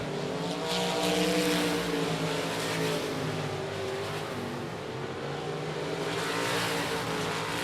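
USRA Limited Modified race cars running down the back straightaway into turns three and four at a speedway, engines droning and rising in pitch, heard fairly far off with steady crowd-like noise beneath.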